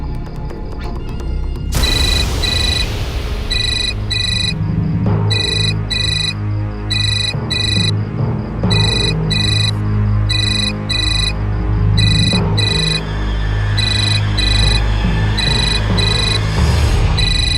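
A mobile phone ringtone plays loudly in a repeating electronic melody of bright beeping notes, sounding continuously over music in a dramatized indoor scene.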